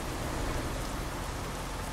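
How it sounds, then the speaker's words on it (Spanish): Steady, dense in-game rain pours continuously in American Truck Simulator, a loud hissing wash of drops on surfaces with no voices heard. "Pero bueno, es nuestra primera lluvia"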